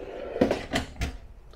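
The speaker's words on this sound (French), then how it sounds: "on a un tiroir ici en bas pour poêlons et casseroles avec le fond renforcé" A pots-and-pans drawer in the kitchen of a 2022 Solitude S-Class 2930RL RV opens with three quick, close clacks and slides in succession, followed by quiet.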